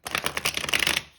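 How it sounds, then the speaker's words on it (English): A deck of tarot cards being shuffled by hand, a quick close riffle of crisp, papery flicks lasting about a second before trailing off. "Okay, I'm going to do one last shuffle."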